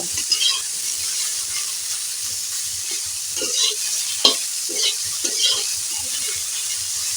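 Soybean chunks frying in hot oil in a pan, a steady close sizzle with occasional scraping stir strokes and small clicks, no talking.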